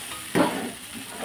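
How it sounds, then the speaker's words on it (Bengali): Chicken chow mein ingredients are stirred in a pan with a spatula, giving one brief scrape and a soft sizzle that fades to a steady low frying hiss, with no voices. "সবগুলো উপকরণ দিয়ে আমি এটা আবারও ভালোভাবে নাড়িয়ে সব মিশিয়ে নেব।"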